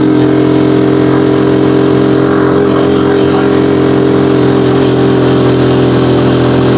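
A Rusi Chariot 175 motorcycle engine runs steadily and close while climbing uphill with a load, a low droning hum under load with slight swells in pitch, no voices.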